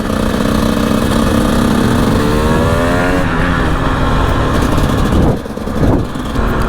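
A road-legal dirt bike ridden along a village road, engine droning steadily up close with shifting revs and rushing wind, briefly dipping before picking back up.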